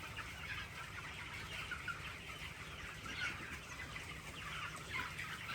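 Poultry farm chickens clucking at feeding time in the cool morning as the shed curtains are opened, a dense, steady chorus of many birds close by with no talk.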